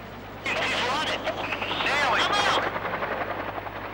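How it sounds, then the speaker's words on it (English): Mi-17 and Mi-8 helicopter rotor noise thrums steadily under a voice narrating, with a broad roar that swells midway and stays fairly close. "Included in the Red Force are Mi-17 Hiplite and Mi-8 attack helicopters."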